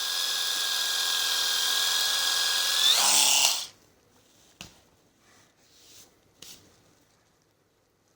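An electric epilator runs steadily with a high whine that shifts pitch as it is used on the skin, then cuts off and leaves only a few faint clicks and brief knocks.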